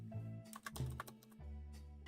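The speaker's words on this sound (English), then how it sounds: "so you guys can hear keyboard. And I'm just gonna type." Keys clatter in short bursts on a computer keyboard, fairly close, with a steady low electrical hum running underneath and no talking.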